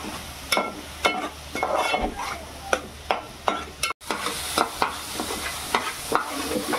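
Onion paste for veg biryani frying and being stirred in a pan, a steady sizzle broken by regular scraping strokes of the spoon, fairly close and with no one talking.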